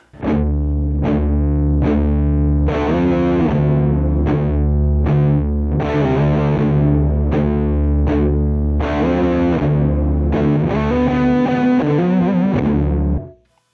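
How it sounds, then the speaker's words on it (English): Electric guitar played through a Walrus Audio Melee pedal on its mellower distortion setting, loud sustained chords in a steady rhythm of repeated strums with a thick, wall-of-sound shoegaze texture, alone and without talk. "And now we're going to do the middle one, which is a mellower distortion."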